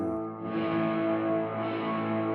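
A Silvertone Paul Stanley Sovereign Pro electric guitar rings out through heavy reverb and effects, a sustained, washy distorted chord swelling and holding close and loud with no talking.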